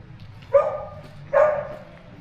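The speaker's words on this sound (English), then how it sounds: "Or which dog can bark the loudest." Two sharp, loud dog barks ring out about a second apart in a shaded courtyard at Newstead Abbey, with quiet ambience between them.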